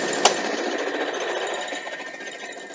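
A sewing machine chain-pieces scraps of quilt fabric, with a close, steady mechanical whirr of rapid stitching that runs continuously after a brief click at the start.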